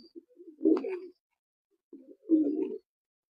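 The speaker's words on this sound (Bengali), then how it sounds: "এই দেখেন কবুতরটা একটু দেখেন" Close, low pigeon coos in two throaty bursts separated by a short silence.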